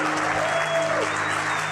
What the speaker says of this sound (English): Let's get on your feet for the man, Keith Kalfas!